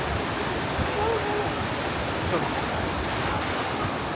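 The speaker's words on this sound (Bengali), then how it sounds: "ওপর থেকে জল পড়ছে ওপর থেকে জল পড়ছে" Water falling from above in a small waterfall on a narrow gorge path in Germany, a steady broadband rush that continues evenly without pause. It stays moderately loud and fairly close throughout.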